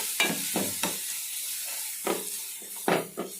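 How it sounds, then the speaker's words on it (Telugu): Crushed garlic, ground in a mixer, frying in oil for a ridge gourd and sesame chutney, with a steady sizzle and several stirring scrapes at irregular intervals, close and moderately loud. "ఎల్లుల్లిపాయ ఇలా వేపుకుంటే చాలా బాగుంది"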